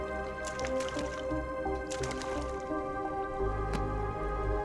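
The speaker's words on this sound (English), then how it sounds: "he's standing in some kind of water" A character stands in water in the StarRupture game, with soft squelching splashes and drips close by over a low ambient hum, a deeper thrum joining near the end.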